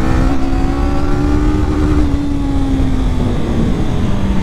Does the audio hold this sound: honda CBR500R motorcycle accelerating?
yes